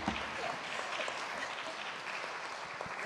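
A church congregation claps after a children's performance during worship, a steady dense patter of many hands filling the room at an even level throughout.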